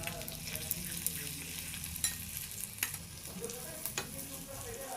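Grated ginger sizzles steadily in a hot pan, a soft continuous frying hiss broken by several sharp clicks and scrapes of a spoon stirring against the metal, close and fairly quiet.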